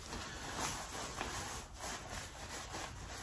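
Fine 2000-grit sandpaper wetted with WD-40 rubbed over a rusty, pitted motorcycle fork tube, a steady close abrasive scrubbing with soft back-and-forth strokes and no talking.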